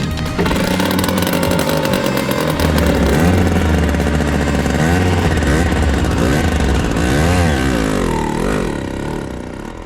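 Tiny Peel P50 microcar engine pull-started by hand, then running with a loud, raspy, buzzing putter like a small motorbike, steady and close throughout.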